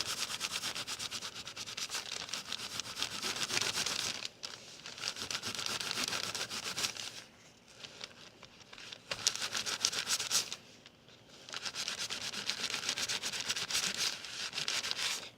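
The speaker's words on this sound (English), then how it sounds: "I just keep picking out clean spots on my paper towel." Antiqued leather being buffed with a paper towel, a close, steady dry rubbing and scrubbing that runs in long strokes with a few brief pauses, no talk.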